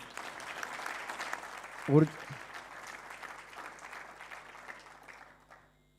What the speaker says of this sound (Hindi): आपकी तालियों में थोड़ा जोश और आएगा,